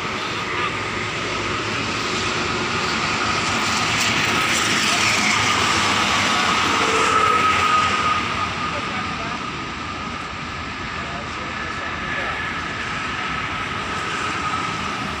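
A bus on the Cipali toll road passes by as a broad roar of engine and tyre noise that swells toward the middle and then slowly fades, with no clear voices.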